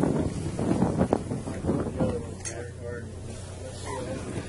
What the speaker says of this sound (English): There's a bit of wind out here.